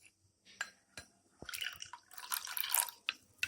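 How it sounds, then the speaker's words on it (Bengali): Water poured from a container into a chili chicken sauce mix of vinegar and seasonings, a short splashing trickle after a few drips and clinks, close and fairly quiet. "এখন আমি দিয়ে দেব জল।"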